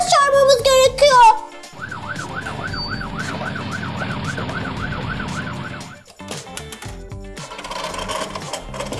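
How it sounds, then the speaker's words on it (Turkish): A toy ambulance siren wails in a steady rising-and-falling cycle for several seconds, fairly close, with a rumbling engine beneath and brief cartoonish sounds around it. "Bir kazada yaralanma varsa ambulans hemen gelir"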